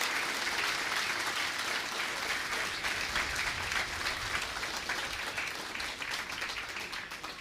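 A crowd applauds both teams after an under-21 football match between Ennistymon and Clondegad played in tough conditions, a steady, fairly distant wash of clapping that slowly tapers off.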